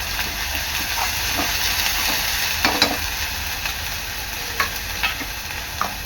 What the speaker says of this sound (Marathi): वाटण आहे ना आपलं चांगलं तेलावर परतून घ्यायचं आहे 2 मिनिटं